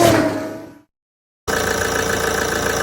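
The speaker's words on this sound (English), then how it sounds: "I'm just going to let the engine get up to temperature" A car engine idles steadily while warming up to temperature, a close, even mid-range hum that drops out completely for a moment before resuming at the same level.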